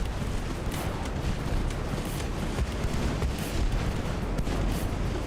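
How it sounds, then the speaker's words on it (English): Naval battle on a warship in Ultimate Admiral: Dreadnoughts, set in 1902, with a dense, continuous rumble of booming impacts and distant gunfire that includes a torpedo hit, all running without any speech. "That was a torpedo."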